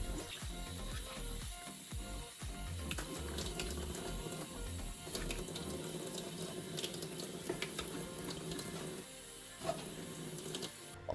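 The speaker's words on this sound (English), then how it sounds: "Then rinse the sink with water." Tap water streams into a stainless steel kitchen sink in a steady, quiet rush, broken by a few short clicks and pauses, with a sharp knock at the very end.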